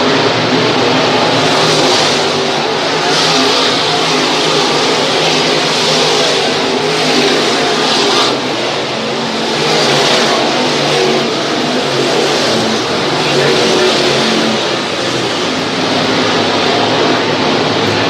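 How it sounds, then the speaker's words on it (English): Dirt-track crate racing cars in a FASTRAK speed warm-up at Screven Motorsport, engines roaring and revving together in a loud, continuous pack. The roar swells and fades slightly as the cars circle the track, with no voices. "Enjoy the sounds of the cars."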